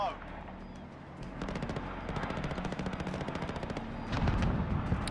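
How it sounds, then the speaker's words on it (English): Rapid automatic gunfire from the Call of Duty Warzone video game, bursts of quick repeated shots growing denser and louder toward the end against a steady game background. "they're already shooting at me"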